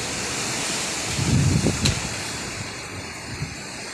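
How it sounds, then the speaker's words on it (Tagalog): Strong typhoon wind during a storm with flooding around a house, a loud continuous rushing roar with gusty swells and a brief sharper burst, nearby and steady throughout. "Lakas ng hangin guys oh."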